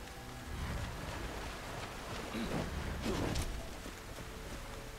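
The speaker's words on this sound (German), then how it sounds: "Hier regnet es die ganze Zeit" Steady rain falls in the video game Wo Long: Fallen Dynasty, a dense, continuous wash of patter throughout with a slight swell midway and no speech.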